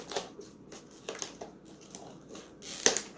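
Tape is peeled and cardboard flaps crinkle and tear while a taped-down box is opened, with short scratchy rips and rustles in bursts, a sharper tearing burst near the end, close and moderately quiet.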